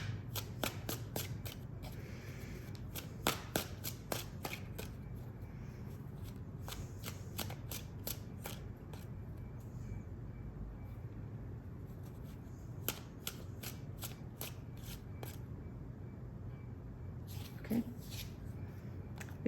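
A deck of tarot cards is shuffled close by, quick bursts of riffling flutter and soft slaps in irregular clusters, fairly quiet over a low steady room hum.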